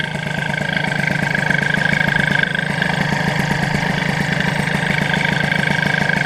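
A Peugeot 103 G2 moped with a Bidalot engine runs close and loud, its small two-stroke engine putting out a steady, buzzing, pulsing drone throughout.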